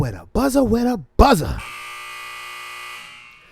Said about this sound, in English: with a buzzer